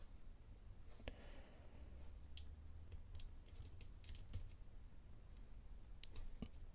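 A lock pick works the pins of a Tessi Assa Abloy CL40L 40mm padlock, making scattered small metallic clicks and ticks, close but quiet over low background hum, with one sharper click near the end.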